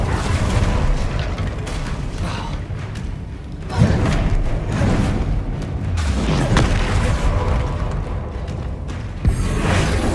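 Spell explosions in the video game Hogwarts Legacy: dense, loud booms and thuds with whooshing bursts and mechanical rattles, a continuous churning battle din.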